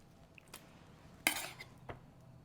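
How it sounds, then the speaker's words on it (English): Spatula scraping and clinking against a pan while roasted chicken is turned over in a kitchen, a few brief quiet metallic clatters, the loudest in the middle, in a hushed setting. "So we're just going to turn it over with a little spatula."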